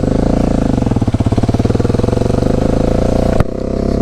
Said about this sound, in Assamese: ভাইটি সুধিছে এক্সজষ্ট চাউণ্ডটো কেনেকুৱা লাগিছে